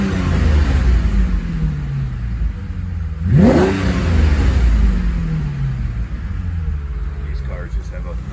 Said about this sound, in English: Beautiful sound, one of the best sounding engines ever.